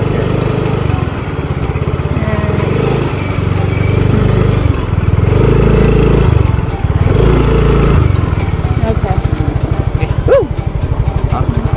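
A scooter engine drones steadily while being ridden, its pitch rising and falling in a few broad surges as the rider changes speed, with a near, continuous motor hum and wind noise throughout.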